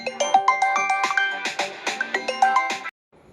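A mobile phone ringtone interrupts the recording, a bright melodic chime repeating in a steady bouncing pattern, loud and close, then stopping abruptly.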